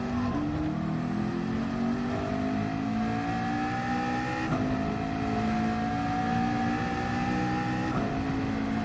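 McLaren race car in Gran Turismo 7, engine note climbing steadily through the gears with brief shift breaks, a loud continuous close whine held for the whole stretch.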